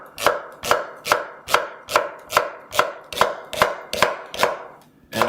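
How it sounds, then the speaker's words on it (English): A knife chops vegetables for sweet potato hash on a board, about a dozen crisp, evenly spaced strikes in a steady rhythm, close and loud with nothing else heard. "just give it a nice chop"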